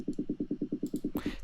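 A kick drum bass layer from a remake track, EQ'd with its low and high ends cut, pulses in a steady run of about eleven even thumps, and a brighter noise swell enters at the end.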